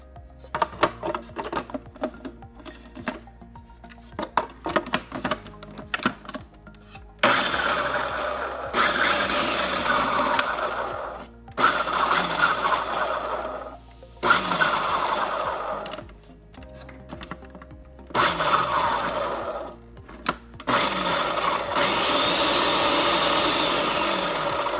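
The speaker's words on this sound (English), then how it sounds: "So you're gonna need a food processor with this." Food processor chopping kale, running in several loud pulsed bursts of a few seconds each with short pauses between, whirring close up with no talking.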